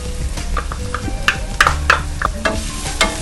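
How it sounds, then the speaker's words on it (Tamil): Ingredients for drums of heaven chicken sauté in a pan, giving a loud continuous sizzle with quick spatula scrapes and taps against the pan, close up. "இந்த ரெண்டையும் ஒரு half a minute வதக்கணும்."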